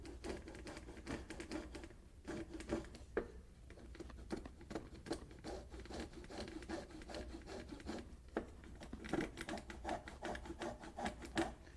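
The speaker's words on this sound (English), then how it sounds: "this is just a saw with a very thin blade stretched out in a metal frame" A thin-bladed saw stretched in a metal frame cuts a shallow line around the bottom of a hat brim, making steady rapid rasping strokes, close and continuous, alone without talk.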